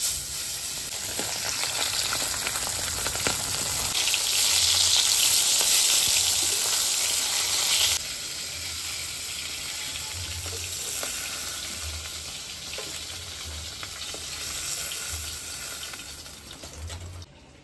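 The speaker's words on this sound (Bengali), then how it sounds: "আমি তেল দিয়ে দিচ্ছি কড়াইতে মাছ ভাজার জন্য।" Tilapia fish sizzling as it fries in hot oil in a wok, with a steady crackling hiss that swells louder for a few seconds midway and then settles into continuous frying.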